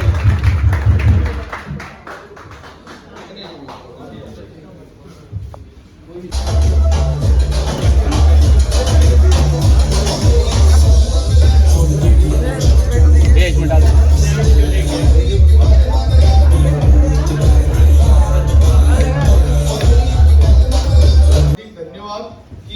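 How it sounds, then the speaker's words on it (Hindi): Loud, sustained applause from an indoor crowd at a mobile phone shop promotional event, clapping rising sharply after a quieter murmur of voices and holding steady for about fifteen seconds before cutting off abruptly. "इसमें एक बार जोरदार ताली हो जाए इसके लिए"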